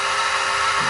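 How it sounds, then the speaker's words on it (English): Fly cutter on a mini mill cutting metal at about 1,000 RPM, a brief, steady, bright whirring hiss, close and continuous with no talk. "This is cutting a lot nicer than the other one."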